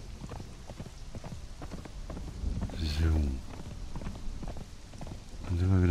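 Horse hooves clip-clop in Conan Exiles in a quick, regular rhythm, with a short spoken German word and a few louder thumps and tonal bursts mixed in.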